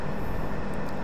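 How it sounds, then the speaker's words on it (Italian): A train in Farming Simulator 17 produces a steady, loud rumbling drone with a low hum, continuous and unchanging across a brief moment with no talk. "riportiamo giù il treno"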